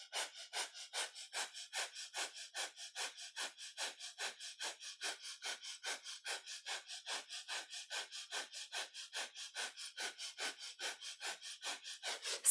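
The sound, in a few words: breath of fire, rapid panting breath through the nose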